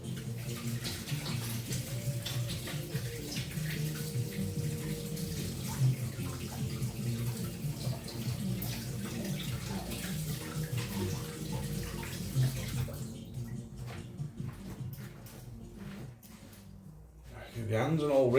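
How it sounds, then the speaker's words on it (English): Hands are rinsed under a running kitchen tap, a steady soft rush of water with some splashing, which fades into drips and clatter near the end, while a person talks over it. "Just wash my hands."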